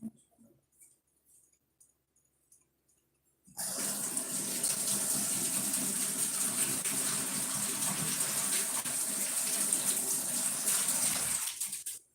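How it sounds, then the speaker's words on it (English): After a few quiet seconds, a tap gushes on abruptly and runs steadily and close as hands are washed beneath it, then cuts off at the end. "let me just wash my hands"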